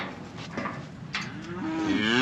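A single long, low moo comes from cattle on a farm. It swells toward the end, fairly close and clear, with no talking.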